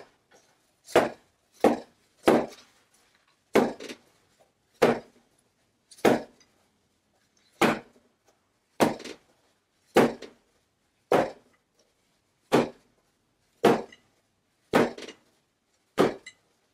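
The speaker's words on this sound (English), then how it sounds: "by rotating around the rim with my hand and hitting each side, what I'm able to do is start to stretch out the shape" Hands slap a wet felted wool vase down against a work surface, about fourteen sharp, damp smacks at an irregular pace, close and loud with quiet gaps between them.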